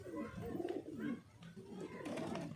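Pigeons cooing in a steady low rolling murmur, close and soft, with a faint voice in the background.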